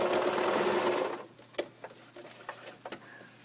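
Sewing machine running a small zigzag stitch on a fabric flower, a steady fast whirring burst for about a second, then stopping, followed by soft scattered clicks and handling noises.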